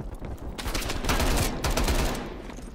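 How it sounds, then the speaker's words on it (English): A Call of Duty: Cold War shootout crackles with dense automatic gunfire, overlapping rapid bursts that swell loud in the middle and ease off toward the end. "they're having a shootout out there"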